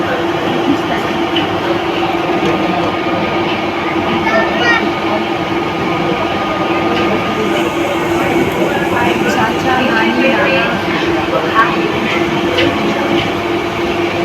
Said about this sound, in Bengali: এই ট্রেনটা না বেরোনো পর্যন্ত আমাদের ট্রেন যাবে না।